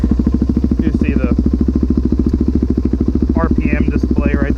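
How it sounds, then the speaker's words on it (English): A 2005 Suzuki DRZ400 Supermoto motorcycle idles close by with a fast, even exhaust thump, and someone talks briefly over the engine. "So here we're going to do an exhaust review real quick"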